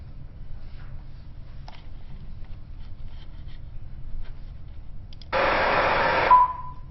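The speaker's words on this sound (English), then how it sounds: "it's pink noise. And then there's a little gap, 10 milliseconds, and there's a very loud tone" Auditory test signal: a roughly one-second burst of pink noise starts abruptly over a quiet background hiss, then cuts out, and a short, loud pure tone follows almost immediately.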